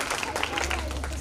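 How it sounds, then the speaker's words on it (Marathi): Audience applause for a contestant at a debate competition, a dense wash of clapping from a crowd, brief and fairly even in loudness. "टाळ्या तरी घ्यायला जोरदार."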